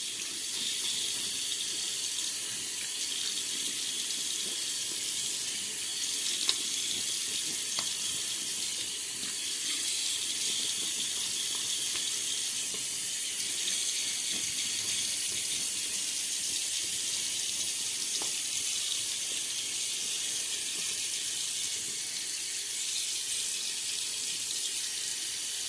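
Tap water runs steadily from a bathroom faucet to wet the bristles of a Simpsons shaving brush, a continuous close hiss and splash with no talk.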